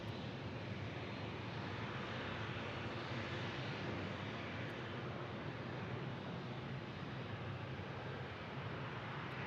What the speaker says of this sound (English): looks like Southwest Airlines taxiing our way